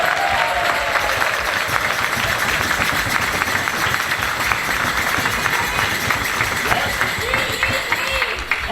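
Sustained audience applause after a Morris jig competition at Woodford, steady dense clapping with crowd noise and a few voices or whoops over the top throughout.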